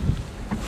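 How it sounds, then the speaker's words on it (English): Strong, cold wind buffets the open air beside a broken-down Ford truck in a brief, rough low rumble of gusts against the microphone, with no voices. "It's so fucking windy and cold."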